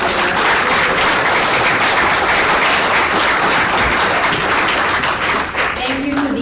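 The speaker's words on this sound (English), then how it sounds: "We can applaud now instead of waving our hands" An audience at a League of Women Voters district forum in Linn County bursts into loud, dense applause at the close, the clapping staying thick and steady throughout.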